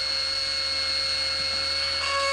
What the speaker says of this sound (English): So, I'll just drill into a healthy tooth until I reach the pulp.